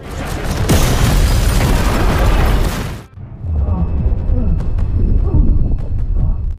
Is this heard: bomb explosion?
yes